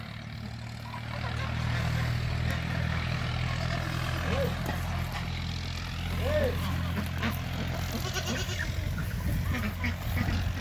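A goat bleats a couple of times outdoors in a Turkish village over a constant low engine-like drone; people talk nearby.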